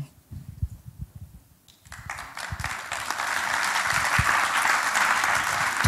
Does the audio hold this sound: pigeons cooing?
no